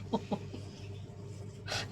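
A chicken gives two quick soft clucks close by, followed by a low hum of background noise and a brief rustle.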